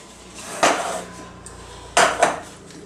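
A kadhai is picked up and set down on a stovetop. It gives two loud metallic clanks with short ringing tails, separated by a quiet pause, with no speech.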